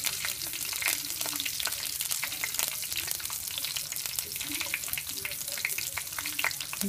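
Finely chopped garlic goes into hot sesame oil with cloves and a cinnamon stick, making a steady, close sizzle with light stirring scrapes and no talk.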